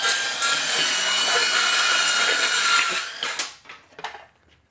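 A saw cutting through melamine and solid wood, heard as a loud, close, continuous rasping cut that tapers off in the last second or two with a few trailing scrapes before fading out.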